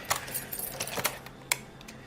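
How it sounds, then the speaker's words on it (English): Keys jangle in short, close metallic bursts near an aircraft baggage locker aboard Air Force One, a cluster of rattles followed by a single sharper clink, quiet and alone. "Keys."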